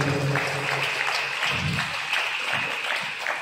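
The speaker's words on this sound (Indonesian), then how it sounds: "Kita berikan aplaus yang meriah dulu dong." Applause from a seminar audience at a youth seminar, a steady broadband patter of many hands clapping that holds at an even level throughout, with no voices over it.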